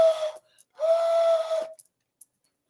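A voice imitates a police whistle with two shrill tones, a short blast followed by a longer one. The tones are clear and close, with near silence after them.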